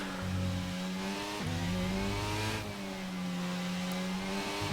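Simulated Formula 1 race car engine in the F1 22 video game, a loud, steady high-pitched whine that drops at gear changes and climbs again, continuous throughout with no talking.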